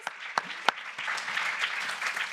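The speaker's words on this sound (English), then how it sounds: "Give them a round of applause." Audience at an entrepreneurship event applauds newly welcomed members, a few sharp isolated claps swelling into steady, moderate group applause.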